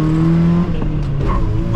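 A 1994 truck with 161,000 miles, running tequila in its gas tank, accelerates hard with a loud close engine roar and a tire chirp on the shift into second gear.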